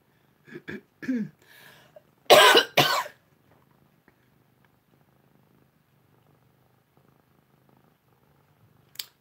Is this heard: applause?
no